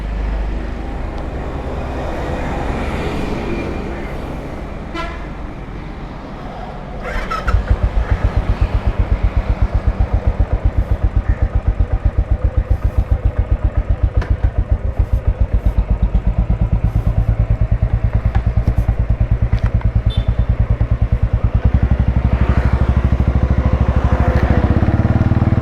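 A Royal Enfield Classic 500 with a full silencer and a faulty oxygen sensor that has lit the warning lamp runs close by. After a softer opening, it settles into a loud, steady, rapid thumping idle that continues to the end.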